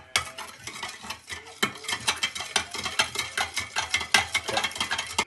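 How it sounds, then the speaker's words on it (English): A spoon stirring sugar into juice in a container, rapid rhythmic scraping and clinking strokes that repeat steadily throughout, close and fairly quiet, with no voices. "you get stirring away because it needs all mixing in and dissolving"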